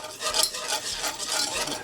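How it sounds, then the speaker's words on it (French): Flour stirred into melted butter for a blond roux for endives au jambon, a steady scraping and swishing of a utensil in the pan with faint sizzling, close and continuous, no talking. "On va ajouter la farine. Voilà. Et on va mélanger."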